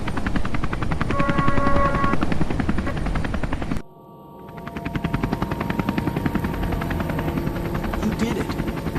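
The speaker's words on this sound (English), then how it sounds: "I'll fly the helicopter." A helicopter's rotors thump rapidly and loudly, cut briefly by a sudden drop, then the steady chopping returns, with faint voices underneath.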